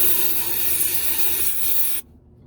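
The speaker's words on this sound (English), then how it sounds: "So now we'll let it sit for about 15 seconds, and then spray it again." CRC mass airflow sensor cleaner hisses from an aerosol can onto a Mercedes ML350's sensor, one loud continuous close spray lasting about two seconds before cutting off abruptly.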